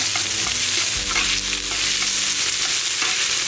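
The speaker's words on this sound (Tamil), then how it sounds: "ஒரு தக்காளி கட் பண்ணி வச்சுருக்கிறேன் அதையும் இது கூட சேர்த்துட்டு நல்லா வதக்கி விட்டுடலாம்" Onion and tomato sauté in a pan for a country chicken curry, a loud continuous sizzle broken by scraping stirs of the spatula, with music underneath.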